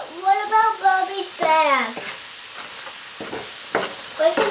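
Deer heart with onions and garlic sizzles softly in a pan while being stirred, a faint frying hiss under a voice and other talk close by.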